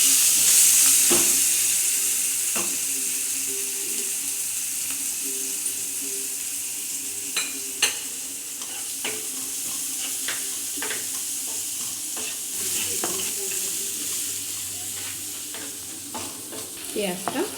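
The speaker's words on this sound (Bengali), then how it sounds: "পেঁয়াজটা একটু লাল করে ভেজে নিতে হবে" Onions fry in oil over a steady, close sizzle, with a hissing burst as they drop in at the start, then a run of spoon taps and stirring scrapes against the pan; no one speaks.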